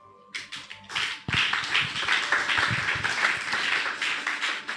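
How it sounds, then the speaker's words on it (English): A church congregation at a ministers' retreat bursts into loud, dense hand clapping after a brief quiet start, sustained and close for several seconds. "Clap your hand."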